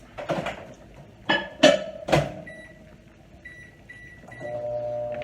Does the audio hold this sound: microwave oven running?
yes